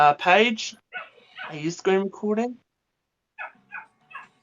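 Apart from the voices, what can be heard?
dogs barking and whimpering in the background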